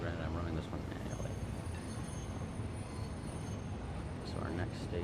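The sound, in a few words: train running in video game Satisfactory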